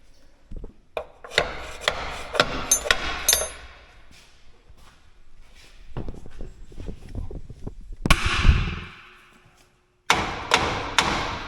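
Hammer blows on a corn planter being adjusted: scattered dull thuds and knocks with pauses, some louder sharp strikes near the end, close to the listener.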